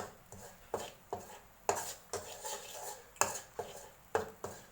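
A spatula scrapes and knocks at a regular pace as vegetarian duck curry paste is stir-fried in a pan, each stroke a close, soft clatter over a faint sizzle.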